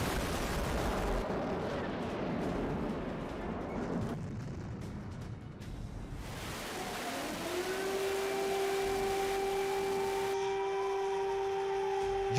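Russian artillery fire in Ukraine: dense, rumbling low booms roll through the first several seconds, followed by a rising, sustained tonal whine like a passing engine or jet, with no voices.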